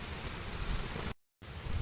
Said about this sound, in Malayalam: ഇതിപ്പം നല്ല മഴ പിടിച്ചിട്ടുണ്ട്